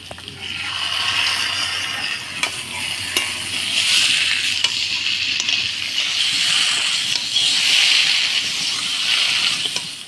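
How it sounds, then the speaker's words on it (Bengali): Ground spice paste with ginger paste sizzles and hisses in a hot pan while a spoon stirs it in slow sweeping scrapes, loud and continuous, while cooking taki fish with taro. "ভাজা মশলা দিয়ে নাড়াচাড়া করে নিলাম"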